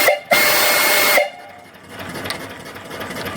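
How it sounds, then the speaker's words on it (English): A steam whistle on an American steam engine boiler gives one loud, shrill, sustained blast of about a second, cut off sharply. A quieter mechanical rumble and hiss from the running engine follow. "And the whistle. Turn down your volume."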